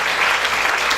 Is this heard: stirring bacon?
no